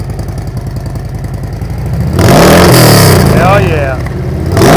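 A motorcycle fitted with a Tab Performance Redline Series exhaust idles with a loping rumble, then revs hard in gear into a loud, deep roar that settles and climbs again, close by, with a brief voice.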